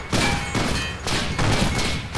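A mounted gun turret fires in ARMA 2 DayZ in loud, rapid bursts of booming shots. It comes in about three or four clustered volleys, heavy and close, with no speech over them.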